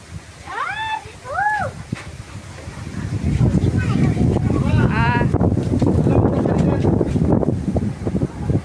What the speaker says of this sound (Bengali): বাতাস উঠছে, বাতাস কত সুন্দর বাতাস